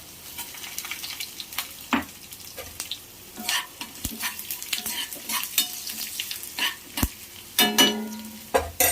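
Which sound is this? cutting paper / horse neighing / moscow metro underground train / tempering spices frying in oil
tempering spices frying in oil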